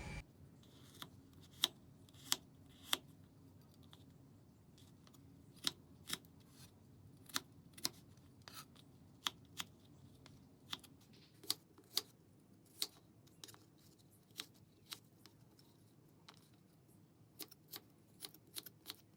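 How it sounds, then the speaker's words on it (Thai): A knife chops peeled young ginger into small cubes on a cutting board, producing crisp, sharp taps in an uneven but steady rhythm, close and fairly quiet. "เราจะนำมาหั่น ให้ ขิงเนี่ยเขามีทรงเป็นขนาดสี่เหลี่ยมลูกเต๋า"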